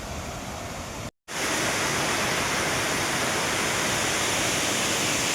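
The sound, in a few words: Chelimicheanu waterfall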